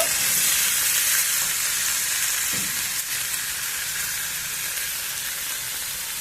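Broccoli cooks in a hot pan with a steady, close sizzle and hiss that fades slightly over time, with no one speaking.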